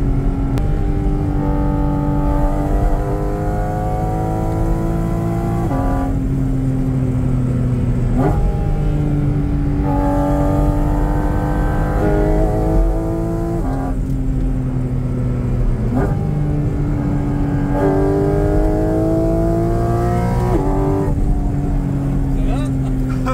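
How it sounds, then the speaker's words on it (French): A Porsche Cayman GT4 RS engine's intake note rises repeatedly through the gears, each climb cut short by a quick PDK shift, loud and close, with talk underneath. "ce qui est incroyable, c'est le bruit d'admission."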